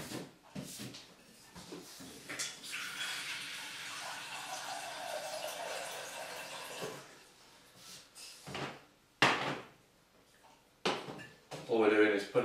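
Kitchen cupboard doors thump open and shut several times amid breakfast preparation bustle and running water for boiling eggs, with a person speaking at times.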